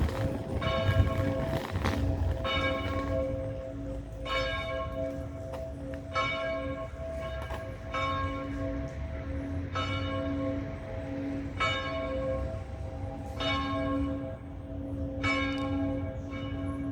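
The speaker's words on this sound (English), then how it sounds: "If that's not a bell. Hurrah! The bells!" Church bells ring in Paris in repeated, evenly spaced strikes with a long sustained hum between them, loud and fairly near above steady street background noise.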